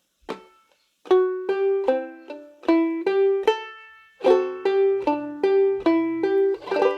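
Clawhammer ukulele plays two D7th measures of the folk song "Bury Me Beneath the Willow" in a steady run of bright plucked notes and brushed strums, close and clean, with a short pause between phrases and no voices.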